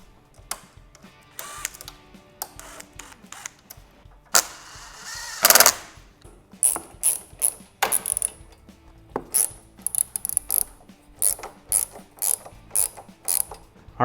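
An 8mm socket and a Torx T25 tighten the upper clamp bolts of a Touratech headlight guard on a Harley-Davidson Pan America, making bursts of close ratcheting clicks that turn into a steady run of short, evenly spaced clicks.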